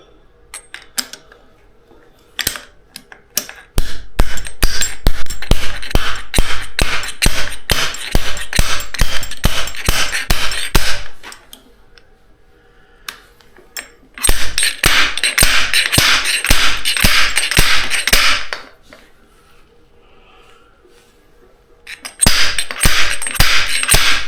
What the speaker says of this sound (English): This is a slide hammer.